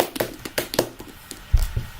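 Sparse clapping from a small audience greets an inventor, Dr. Nakabachi, as he enters: a handful of scattered, uneven claps across two seconds, with a couple of heavier thumps near the end.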